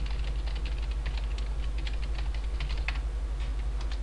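Steady keyboard typing while sign-up details are entered on a computer, a continuous run of close, crisp key clicks with a low background hum underneath.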